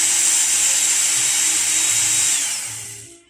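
Work Sharp Ken Onion belt sharpener grinds a knife blade with a loud, steady, high-pitched whirring hiss that holds for a few seconds and then winds down as the motor stops, with no voices.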